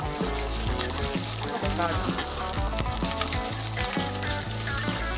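Curry leaves and green chillies frying in a pan for Indian-style rava upma, a steady hiss and sizzle running the whole time beneath prominent background music.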